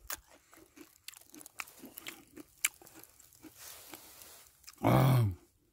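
A frozen pear is bitten and chewed up close, giving a run of crisp crunches and soft chewing sounds that end in one louder, denser burst near the end.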